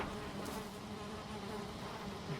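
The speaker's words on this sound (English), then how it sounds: "I'm going to keep away from the bees." Bees buzz steadily in the video game Valheim, a dense continuous drone of insect wings heard close and constant throughout with no speech.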